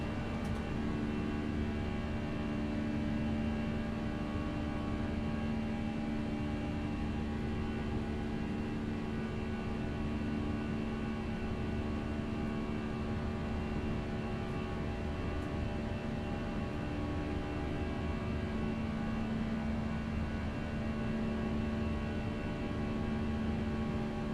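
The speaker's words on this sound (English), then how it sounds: "Lower my airplane sounds a little bit." Steady, unbroken cabin drone of an Airbus A320 airliner in the X-Plane 11 flight simulator, a constant low hum with faint tonal whine, even and unchanging throughout, with no voices.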